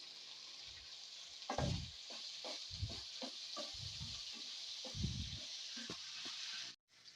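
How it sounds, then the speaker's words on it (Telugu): A steady sizzle of onions frying in a pan, with occasional soft stirring thumps, before the sound cuts off abruptly near the end. "ఉల్లిపాయ మొక్కలు కొంచెం పచ్చివాసన పోయి గోల్డెన్ బ్రౌన్ కలర్ వచ్చే వరకు అయితే వేపుకుందాము"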